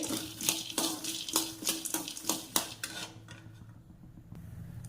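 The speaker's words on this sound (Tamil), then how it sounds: "நான் அதை வந்து இன்னும் கொஞ்சம் லைட்டாக வந்து வறுத்துக்கிறேன்" Peanuts dry roasted in a pan, stirred with a metal spoon: a run of bright scraping clinks and rattles close by for about three seconds, then quieter background hum.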